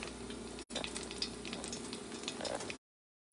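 Food sizzles and crackles steadily while frying in a pan, a close, continuous hiss that cuts off briefly near the start and stops before the end.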